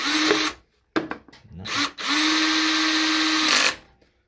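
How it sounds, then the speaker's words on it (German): A power screwdriver driving screws into parts of a Piaggio Quartz scooter gives several short buzzing bursts and then one long, steady whirring run, close and loud, separated by quiet gaps. "Ich mache das nur mit ein paar Schrauben fest."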